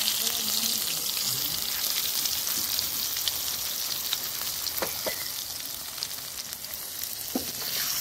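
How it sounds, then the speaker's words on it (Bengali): Tomatoes with salt, turmeric and nigella seeds frying in a pan, giving a steady, close hiss of sizzling with occasional light crackles and stirring taps throughout, no talking. "টমেটোটা ভাজা ভাজা হয়ে গেছে"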